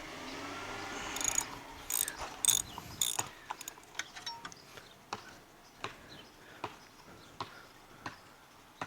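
A hand wrench ratchets on the nuts of a Toro Wheel Horse 1238XL lawn tractor, starting with a few louder metallic clanks and then settling into quiet, evenly spaced clicks alone in a still room.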